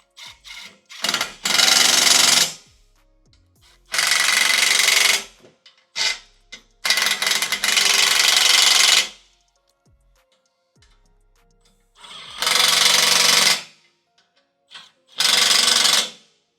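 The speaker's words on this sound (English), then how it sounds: "I can either use a socket or a powered wrench and take them down." A powered wrench tightening bolts on Jeep Gladiator rock slider frame-mount brackets, heard as several loud bursts of rapid buzzing lasting one to two seconds, with short clicks in between and silent pauses.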